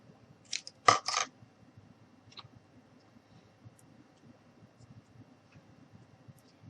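Cardboard being cut with scissors: a couple of crisp snips close by, then a few faint ticks and light handling noises in a quiet room.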